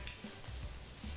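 Asafoetida, ginger and green chillies sizzling in hot oil in a pan, a faint steady frying hiss with soft stirring bumps, no voices.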